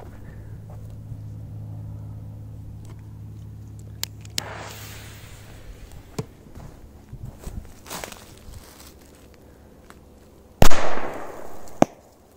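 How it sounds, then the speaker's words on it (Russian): Firecrackers set off in sand outdoors: a faint crackle and a few sharp pops through the first part, then one loud blast near the end followed by a rumbling tail and a second smaller burst. "Петарды."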